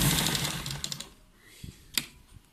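A sewing machine stitches a sleeve cuff with a short close burst of rapid mechanical running, then goes quiet apart from a few scattered clicks and taps.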